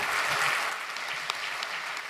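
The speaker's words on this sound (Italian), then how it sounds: "il primo applauso è per voi" Audience applause at a political rally in Milan, a dense burst of clapping from a crowd that stays steady and fairly loud throughout, with no talking over it.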